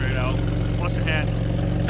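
A Toyota pickup truck engine runs at a steady, even idle close by, its low rumble continuous throughout while a person talks over it.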